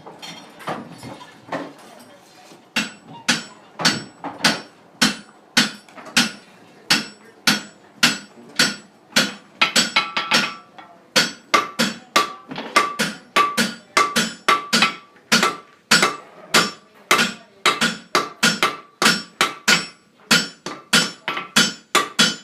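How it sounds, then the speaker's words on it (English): A blacksmith strikes a knife blade with a big Dutch hammer, drawing out the point. Dozens of sharp, ringing metallic blows land in a steady rhythm, close and loud, with brief pauses between runs. "That big Dutch hammer. And we'll start drawing that point out."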